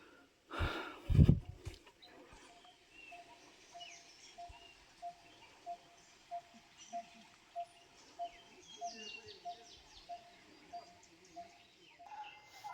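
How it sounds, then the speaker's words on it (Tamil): Birds chirp in a forest beside a mountain stream on the Sathuragiri hill trek, with a steady run of short, evenly spaced calls over a soft background wash, after a brief loud burst of breathing or snorting near the start. "நீரோடைகளும் அந்த குருவிகளும் சத்தம் கேட்குது."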